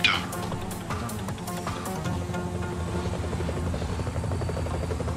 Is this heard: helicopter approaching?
yes